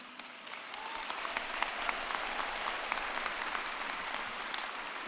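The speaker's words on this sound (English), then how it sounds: "this is when you want to clap." An audience at a university graduate commencement ceremony claps continuously, a dense, even patter of many hands that swells slightly and holds steady, heard from a moderate distance.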